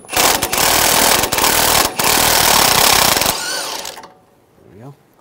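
Pneumatic impact gun spinning a 16mm socket to remove the top nut of a sway bar link on a 2011-2018 Ram 1500 pickup, a loud continuous rattling burst broken by brief pauses, then quieter ratcheting and handling noises close by.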